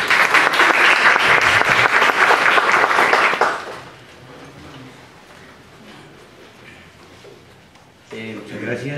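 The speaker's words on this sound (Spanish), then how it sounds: "Así que un aplauso para él," Warm applause for the rector at a university book launch ceremony, a dense burst of clapping that tapers into quieter room murmur before a voice starts speaking.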